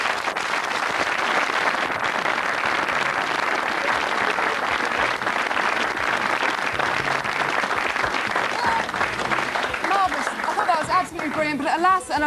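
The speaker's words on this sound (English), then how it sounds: "Let's have a round of applause" A studio audience applauds at the close of a live late-night programme, sustained full clapping with some cheering and chatter, fading toward the end as voices and a bit of music come through.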